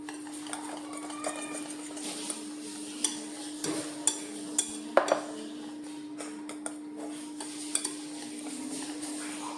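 Banana fritter batter for pazham pori is mixed in a bowl, with irregular light clinks and taps of a utensil against the bowl over a steady low hum, close and without voices.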